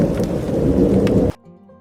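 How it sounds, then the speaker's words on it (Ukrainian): A loud, dense rumble of thunder with heavy rain roars close by, then cuts off abruptly into quiet with a faint soft tone. "загримів грім, лякалася чорна хмара і розсипалась. Шов дощ."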